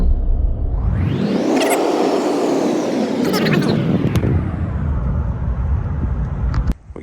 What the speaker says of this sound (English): We gave the Lincoln a test drive, done great